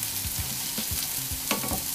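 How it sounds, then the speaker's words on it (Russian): Onions fry in a pan for green borscht, with a steady close sizzle broken by scraping stirs, and no voices. "Ну вот зажарка уже почти готова."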